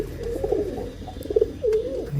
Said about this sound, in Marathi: ज्या तिथून कबूतर उडाले त्या ठिकाणी येऊन बसणार